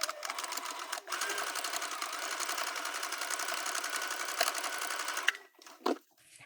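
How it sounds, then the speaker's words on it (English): A sewing machine stitches a dart on a crop top panel, a steady close running whir for about five seconds with a brief pause near the start, then stopping with a few faint handling knocks. "we have just sewn this panel with the dart"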